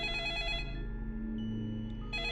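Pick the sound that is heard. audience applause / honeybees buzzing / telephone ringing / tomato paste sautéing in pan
telephone ringing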